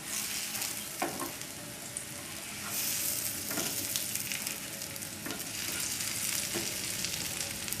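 Zucchini fries in a pan with a constant hiss and sizzle, broken now and then by louder stirring scrapes and clatters, close up and without talk.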